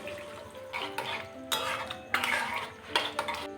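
A spoon stirring cornflour into half a bowl of water, with clinks against the bowl in short bursts and a few pauses between, close and fairly clear.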